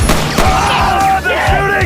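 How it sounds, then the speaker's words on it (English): Gunshots in a film car chase scene, loud bangs and booms mixed with shouting voices and engine noise over a short, dense burst. "Ah, they're shooting!"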